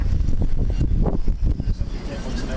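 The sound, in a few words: wind blowing at the waterfront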